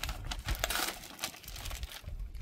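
Close jingling and clinking of a bunch of keys being handled, with metallic rattles and rustling in short irregular bursts.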